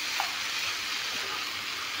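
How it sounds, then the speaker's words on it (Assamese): Chicken pieces and tomatoes frying together in a hot pan while being stirred, giving a steady, close sizzle throughout with faint scraping, no voices. "এতিয়া অলপমান টাইম এনেকৈ লাৰি দি থাকিম, যাতে মাংস বিলাহীখিনি একেলগে ভালদৰে ভজা যায়।"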